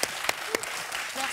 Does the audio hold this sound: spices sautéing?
no